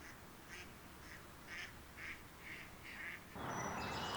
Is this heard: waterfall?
no